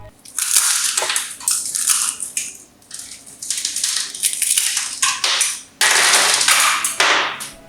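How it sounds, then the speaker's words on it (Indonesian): Crisp, loud crunching of fried pastel contong pastry skin, a crunchy cone-shaped snack, in repeated bites and breaks of varying length at close range with no talking. "Jika digorengnya itu matang luar dalam begini, insya Allah teksturnya itu benar-benar kriuk ya, dan renyahnya itu seperti keripik."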